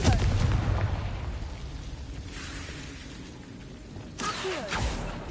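Confringo fire blast spell bursting in the Hogwarts Legacy video game, a booming explosive impact up front followed by a lower rumbling tail and a second sharp burst near the end.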